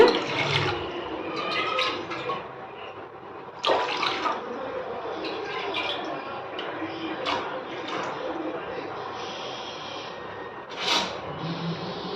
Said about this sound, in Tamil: ஆன் பண்ணிவிட்டு தண்ணி சேர்த்துக்கோங்க